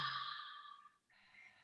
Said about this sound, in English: Now that is a Qigong breath.